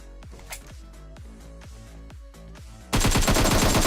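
Rapid bursts of gunfire in a video game shooter, a quick series of sharp automatic shots with metallic echoes, then a sudden louder, denser blast of firing near the end.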